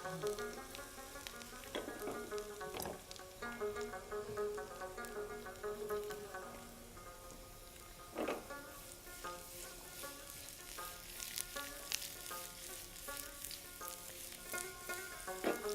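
Garlic fries in oil, just starting to brown before prawns go in, giving a faint, continuous sizzle with scattered small pops, heard close under a steady tonal background hum.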